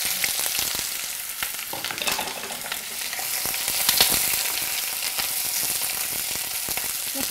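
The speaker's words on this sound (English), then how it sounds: "Now the oil is hot and we can add sliced onions to it." Sliced onions, cut lengthwise, frying in hot oil in a pan with a steady, close sizzle and occasional crackles and stirring clinks throughout, no talking.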